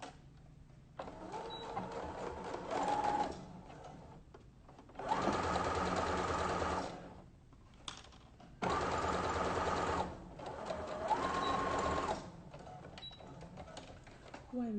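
Sewing machine running a straight stitch along the folded hem of a fabric face mask, buzzing in three bursts of about two to three seconds each with quiet pauses and faint handling between them.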